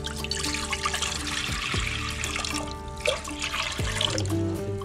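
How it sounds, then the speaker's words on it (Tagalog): Water pours steadily into a cooking pot for a Filipino fish soup with tilapia, squash, ginger and lemongrass, a continuous close splashing and gurgling with a couple of clunks from the pot. "Lagyan natin yung tubig."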